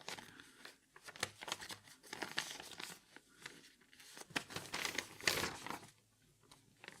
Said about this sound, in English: Shuffle, shuffle, go the bits of paper.